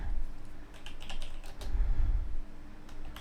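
Quick, close keystrokes clatter on a computer keyboard as a ping command is typed, arriving in short irregular bursts.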